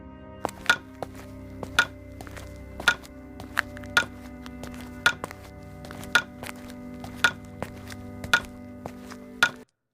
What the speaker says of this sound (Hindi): तू फिर से मिट्टी खोद रहो है